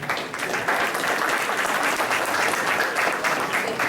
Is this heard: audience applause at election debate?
yes